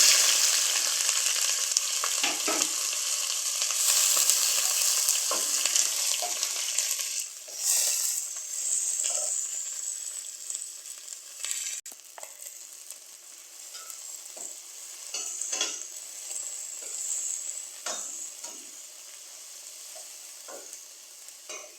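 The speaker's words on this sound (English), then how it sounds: "So we'll put this in the oil and saute it" Beef with peppers, onion and garlic sautéing in oil on medium heat: a continuous bright sizzle with repeated scraping stirs and occasional clinks, close and moderately loud, easing somewhat toward the end, no talking.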